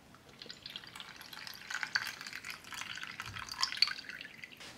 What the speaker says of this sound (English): Let's pour her potion out.